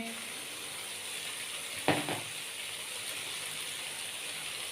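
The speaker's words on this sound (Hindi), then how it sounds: "शिमला मिर्च डाल के इसको हमने हल्का सा फ्राई कर लिया है" Capsicum and half-boiled potato frying in a pan for vegetable tawa pulao, with a soft, steady sizzle throughout and a brief clatter midway as something is added.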